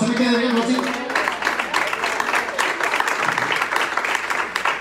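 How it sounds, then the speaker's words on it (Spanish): A church congregation applauds loudly after a call to applaud the Lord, a dense sustained wash of clapping that continues throughout, with voices mixed in beneath. "Denle un fuerte aplauso al Señor"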